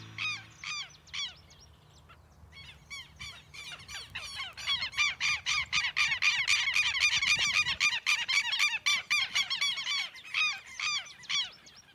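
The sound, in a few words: call of the tero (southern lapwing) bird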